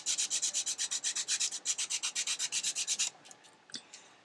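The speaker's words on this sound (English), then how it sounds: "you may want to use the sandpaper to sharpen it, and you just sand away the wood on the charcoal, and it becomes sharper." Sandpaper rubs back and forth over the wooden casing of a charcoal pencil in about twenty quick, even strokes, close and fairly loud, then stops, followed by a few faint handling taps.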